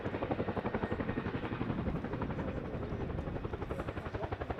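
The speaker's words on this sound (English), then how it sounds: "monitoring the height of the aircraft as she comes into land" An RAF Boeing Chinook twin-rotor helicopter approaches and settles to land at the Duxford airshow, its rapid, heavy rotor chop pulsing continuously and moderately close with no voices.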